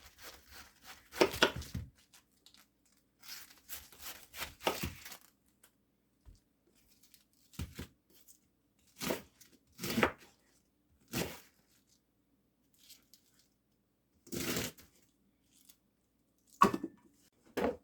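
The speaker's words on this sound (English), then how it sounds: "I'm going to cut up this whole pound of bacon." A knife cuts up a pound of bacon on a board in a home kitchen, making sparse, irregular sharp taps and short chopping bursts separated by quiet gaps.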